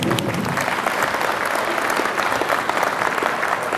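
Round of applause from an audience at a sailing event gathering in Cowes, a dense, continuous clatter of many hands at a steady, fairly loud level.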